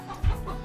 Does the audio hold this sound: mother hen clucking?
yes